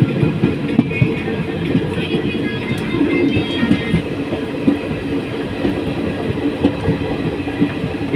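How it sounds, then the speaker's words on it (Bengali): A CRS inspection train running toward Bairabi on a rainy morning gives a loud, steady rumble with rhythmic wheel clatter, continuous and close, with faint talk underneath. "সিআরএসের ট্রেন ছেড়ে দিয়েছে"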